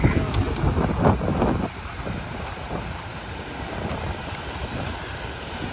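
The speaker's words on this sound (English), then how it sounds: "Yeah, that's a lot of water coming." Water rushes loudly from a power plant outflow, a broad, roaring wash heard close and strongest at the start before settling into a steadier, softer flow, with wind buffeting the microphone.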